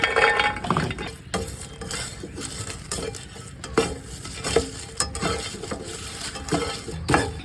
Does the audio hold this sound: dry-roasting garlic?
yes